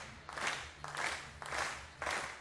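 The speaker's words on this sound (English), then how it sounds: "You hear the crowd clapping in the background" Spectators at a women's 50m rifle three-positions shooting competition clap in a slow, rhythmic unison, four swelling bursts of synchronized claps spaced evenly apart, moderately distant.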